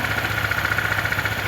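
A QJ Motor ATR 160cc liquid-cooled adventure motorcycle idles, giving a quiet, steady, even mechanical purr with a faint regular pulsing throughout.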